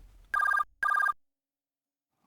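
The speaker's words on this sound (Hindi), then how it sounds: "विश्वास के फोन पर खुशी का कॉल" An incoming call rings on a phone in two bright, trilling electronic bursts separated by a short gap, then silence before a third ring begins at the very end.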